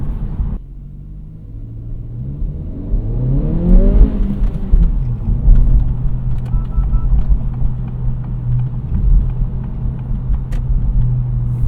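A Honda Integra engine, driven with traction control switched off, rises in pitch as it revs hard through acceleration, then settles into a loud, steady droning cruise with road rumble. No one speaks.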